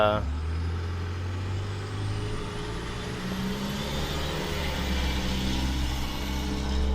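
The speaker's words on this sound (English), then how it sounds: "sorry, this stupid truck" A truck rumbles past close by, loud and low, with a brief high hiss at the start and engine drone filling the whole stretch. A person keeps talking over the noise.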